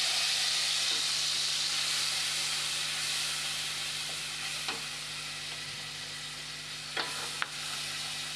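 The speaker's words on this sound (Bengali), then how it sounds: "জিরে, লঙ্কা, হলুদ, সেটা দিয়ে দেবো সেই তেলেই।" A paste of ground cumin, chili and turmeric sizzles in hot oil for a Bengali cucumber curry, giving a steady hissing fry with a few light utensil clinks near the end.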